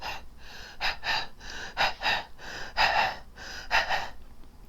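A voice imitates a monster's scary panting with a run of heavy, rhythmic gasping breaths, about a dozen in quick succession, close and breathy with no words.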